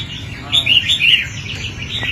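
A red-whiskered bulbul sings a short run of bright, high chirping notes over a low background rumble, fairly close and clear.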